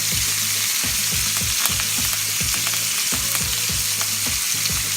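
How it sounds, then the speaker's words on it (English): A ribeye steak sears in a hot pan as fresh herbs go in, giving a loud, steady sizzle close by with rapid rhythmic popping and spattering throughout and no voices. "as I'm getting the sear on the second side, I'm going to add the herbs"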